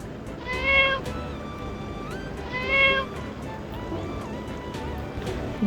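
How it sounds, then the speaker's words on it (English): A pet cat meows twice, with clear, moderately loud, tonal cries about two seconds apart over a faint background hiss. "Cat, cat."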